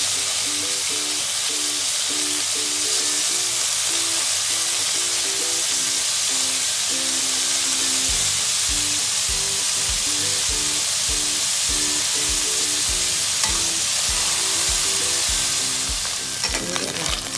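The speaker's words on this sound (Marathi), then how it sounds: "त्याच्यामध्ये मी पनीरचे पीस असे थोडे तळून घेणार आहे" Paneer pieces shallow-frying in ghee for palak paneer, a loud steady sizzle close up with a humming background and rhythmic scraping strokes of a spatula in the pan during the second half.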